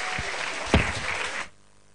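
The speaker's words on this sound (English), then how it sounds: "Can we give him a round of applause, please?" Audience applause at the Ake Arts & Book Festival 2017 awards presentation, a dense, steady clatter of many hands clapping with one sharper burst partway through, cutting off abruptly into quiet room tone for the last half second.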